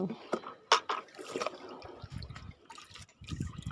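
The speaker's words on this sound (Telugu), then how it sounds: "పోయి చుట్టూరు పోయి మొత్తం మట్టి అంతా తడిసేటట్టు పోయి" A plant-strengthening liquid solution is poured in small splashes around a plant to soak the soil, making intermittent trickling and dribbling bursts with a speaking voice in between.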